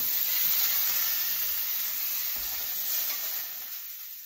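A steak frying in poor-quality oil, a constant bright sizzle and crackle that stays fairly even and softens slightly toward the end, with no voices over it.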